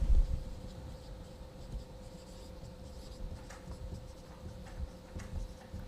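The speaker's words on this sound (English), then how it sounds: "let me write down this" A pen or chalk scratches steadily during a machine learning lecture, producing soft irregular scrapes and taps under a faint constant hum, with no speech during the writing.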